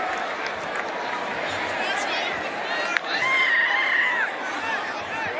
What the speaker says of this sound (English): if you hear the buzz coming out of the crowd right now on the stadium